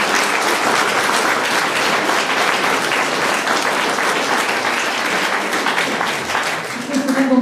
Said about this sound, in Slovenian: En aplavz še za njiju